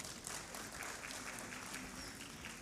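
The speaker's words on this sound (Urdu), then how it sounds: "آپ نے تالیاں بجانی ہیں بہت ساری" Audience applause at the closing ceremony of the Pakistan Literature Festival in Sukkur: dense, steady clapping from a large crowd, sustained throughout at moderate distance.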